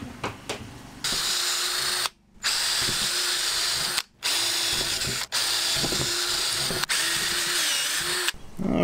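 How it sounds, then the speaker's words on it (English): Loud, close power drill with a 7/32 bit whirring in several bursts while drilling screw holes for a van headliner shelf kit, stopping briefly between holes, with a short click or clatter at the start. "we're going to drill our screw holes"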